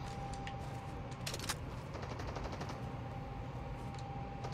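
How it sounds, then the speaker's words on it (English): Gunfire in a Roblox game: rapid, rattling automatic shots in quick clusters, faint and steady over a low background hum, with no voices. "I'm getting shot at."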